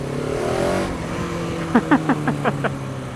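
A KTM 690 Enduro R single-cylinder motorcycle pulls hard in second gear on a road, its engine note rising under wind rush, followed by a quick run of six sharp pops or bursts in a row.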